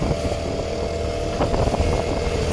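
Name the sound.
boat outboard motor running on water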